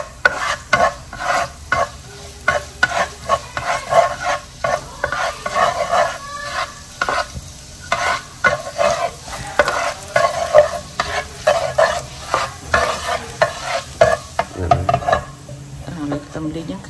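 Duck eggs fry in a pan and are stirred over and over, a run of scraping strokes over a soft sizzle that lasts throughout. A rooster crows faintly in the distance, and a voice is briefly heard.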